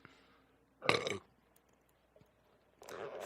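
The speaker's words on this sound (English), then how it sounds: "Fat white racist man with broken back burps into mic" A man lets out a single loud, drawn-out burp close into a microphone, followed later by a second rougher burst, with faint room noise between.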